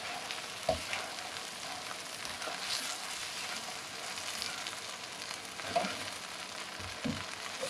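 Hawaiian fried noodles with Spam sizzle steadily in a hot pan, a continuous broadband hiss punctuated by a few louder stirring scrapes and pops, close and alone with no talk.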